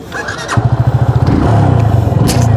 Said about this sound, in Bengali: So here is the 25 FZ25। তো এটা একটু টেস্ট রাইড দিয়ে আসি।